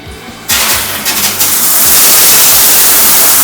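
Strong shower body sprays in a bathroom switch on suddenly and surge, building to a loud, steady hissing rush that fills the space close by.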